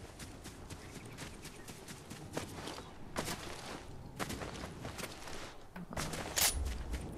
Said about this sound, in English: yeah, I can hear footsteps